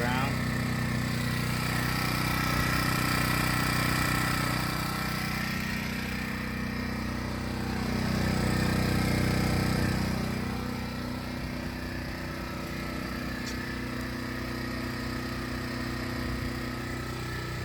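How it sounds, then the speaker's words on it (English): A small 1K–2K watt inverter generator runs steadily outdoors under a rain cover, a continuous close engine drone that swells slightly in the middle while a person talks over it. "it's been running for about 45 minutes to an hour and the generator did not shut off"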